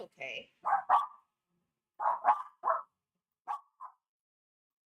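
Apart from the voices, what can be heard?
dogs barking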